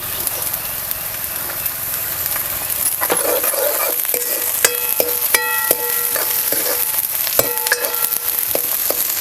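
Onion stir-frying with finely chopped capsicum and spring onion for cabbage Manchurian, heard as a bright, loud sizzle with repeated metallic clinks and scrapes of the spatula against the pan.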